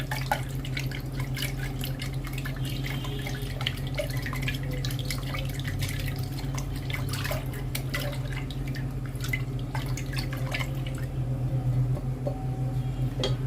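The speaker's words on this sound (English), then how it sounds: "I'm going to dissolve my water properly with using my spatula." Water being stirred with a spatula in a container while making shower gel, with small drips, sloshes and light scraping over a low steady hum, close and fairly quiet.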